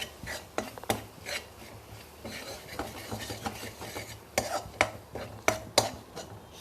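A spoon stirs coriander and amchur powder into a curry in a pan, with a steady run of scraping and clinking strokes against the metal that sharpen into louder knocks near the end, with no voices.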